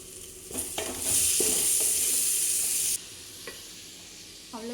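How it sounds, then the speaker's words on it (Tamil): Tomatoes sauté in a pan, opening with a few scrapes before a loud hiss flares up for about two seconds and then settles into a quieter sizzle with occasional stirring taps, close up. "தக்காளி போட்டு வதங்கிட்டோம்"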